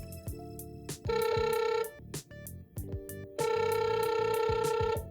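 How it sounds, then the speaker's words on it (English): A combined home security camera and baby monitor plays an electronic ringtone while placing a call, giving two long bursts of bright warbling tones separated by a short gap, close and clear, with no talking. "So when you press this button, it's calling someone."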